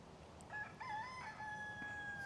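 A rooster crows once at a distance, a faint wavering cry of about two seconds heard over quiet outdoor background.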